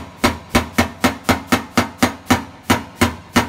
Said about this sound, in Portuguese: Vendo, ó, o martelo dá assim,